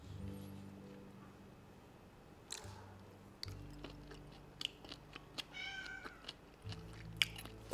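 A cat meows a few times nearby amid soft chewing and crunching of wasabi octopus, with a low steady hum underneath.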